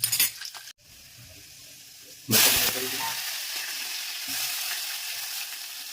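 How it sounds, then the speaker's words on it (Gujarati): Chopped garlic cloves hit hot oil in a pan for masala pasta. After a quiet start, a loud sudden burst of sizzling erupts and then settles into a continuous, close frying hiss. "તેલ ગરમ થઈ જાય એટલે લસણની થોડી કલીઓ કાપીને અંદર નાખી દઈશું."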